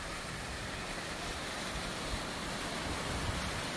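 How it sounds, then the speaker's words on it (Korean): A steady, broadband roar of Yangpokpo waterfall in Seoraksan, South Korea, constant and unbroken, with no voices or other sounds. "양폭포입니다"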